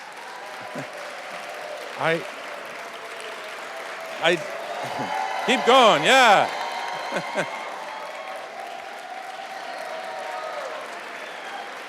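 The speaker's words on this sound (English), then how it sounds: "So let's start by giving her a round of applause." Applause from a seated audience at a public tribute event honoring a former Philadelphia councilwoman, a diffuse clatter of clapping running under a speaker's voice and some scattered whoops throughout.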